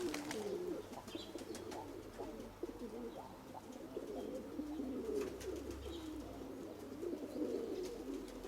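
Domestic racing pigeons coo continuously close by, overlapping soft throaty rolls that rise and fall without pause, with faint clicks and rustling in the loft behind them.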